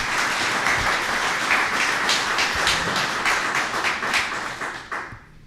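Steady applause fills a city CRA board meeting room after a board member's speech, dense and sustained at moderate loudness for several seconds before tapering off at the end.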